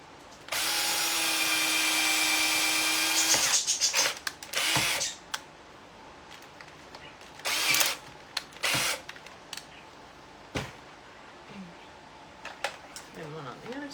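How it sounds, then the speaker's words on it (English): Power drill boring holes into a tree for a treehouse, one long steady whirring run up close followed by several short bursts, with talking in between. "drill the holes in the tree"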